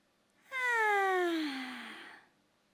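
A pet cat lets out a single long meow, loud and close, rising sharply then sliding down in pitch over about a second and a half before trailing off.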